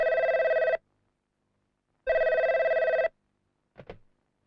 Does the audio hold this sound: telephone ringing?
yes